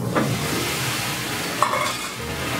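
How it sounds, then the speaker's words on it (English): Mushroom risotto simmers in a pan as broth goes in and a spoon keeps stirring, giving a loud, continuous sizzle and bubbling with a light scrape near the middle. "Adding this slowly and stirring the whole time is really going to make a nice creamy consistency."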